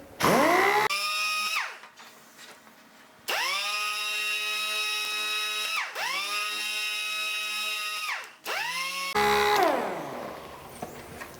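A power sander works a light scratch on a motorcycle plastic part during paint repair, whining loudly in three long bursts that spin up and wind down, with short pauses between them.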